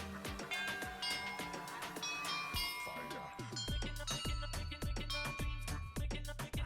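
A familiar melody rings out from the bells in Hogwarts Legacy, a run of struck, chiming notes in a steady rhythm that grows denser and lower near the end, with a voice faintly underneath.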